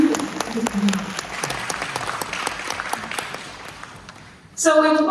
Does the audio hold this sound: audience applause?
yes